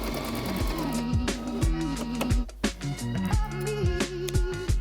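A sewing machine stitches a light summer top, running in steady rapid bursts with brief pauses, close and loud on its own.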